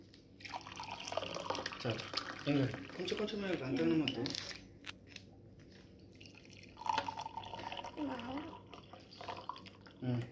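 Water pours and splashes into a container with trickling, liquid sounds while a person talks over it nearby.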